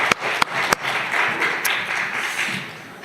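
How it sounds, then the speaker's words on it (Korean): A church congregation applauds during a Sunday morning service, producing a wash of mixed clapping with a few sharp, close individual claps standing out near the start. "박수하겠습니다."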